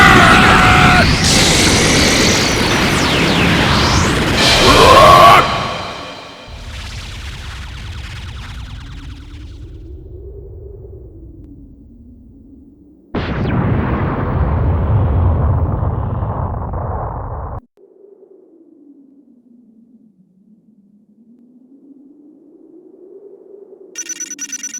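Special Beam Cannon energy blast from the Dragon Ball Xenoverse 2 video game: a loud roaring burst, then a droning hum, a second forceful blast, and a wavering tone trailing off.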